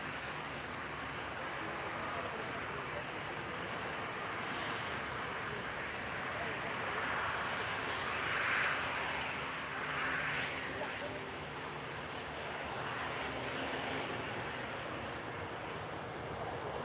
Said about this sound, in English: Get to see this one final takeoff. Ryanair Boeing 737.